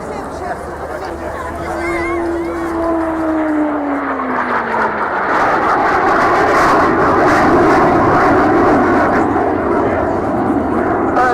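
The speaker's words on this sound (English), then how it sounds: "Fighter aircraft." A fighter aircraft roars past during a flying display at the Dunsfold air show, a loud sustained jet rush whose pitch sweeps downward as it passes, with faint crowd chatter beneath.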